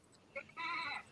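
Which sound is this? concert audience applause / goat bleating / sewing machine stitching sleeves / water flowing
goat bleating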